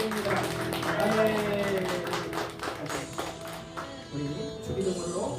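A church congregation claps together after prayer, a dense patter of hands beneath a voice speaking, with a short utterance at the start.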